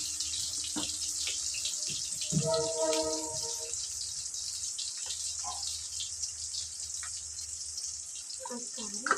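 Water runs steadily, like a tap, while being poured into an egg curry with tomato, turmeric, salt and chilli powder to make gravy, with faint clinks and brief background voices.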